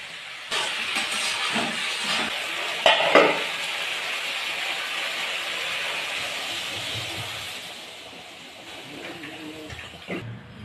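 Eggplant and potato curry with water is stirred in a pan, bringing a bubbling sizzle with scraping and clattering spoon strokes that quieten toward the end.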